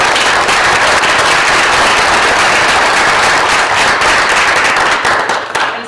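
A board of education meeting audience applauding a retiring staff member: dense, loud, sustained clapping from a roomful of people that holds steady and begins to thin out at the end.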